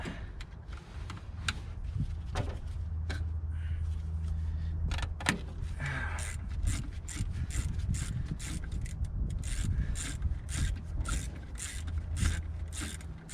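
Wrench loosening 13mm flange bolts on a BMW E28, a run of rapid ratchet clicks and metallic scraping over a low steady hum, close and continuous.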